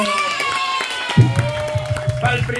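Audience applause and cheering at a mothers' dance final, with clapping and shouts rising suddenly midway over busy background music and chatter, loud and close.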